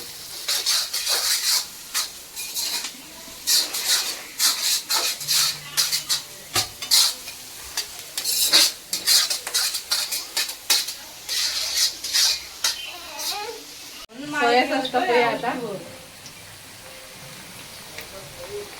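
Crab chilli, crabs stuffed with filling, cooking in a pan, with repeated close clinks and scrapes of a utensil stirring against metal over a light sizzle, and a voice speaking briefly near the end.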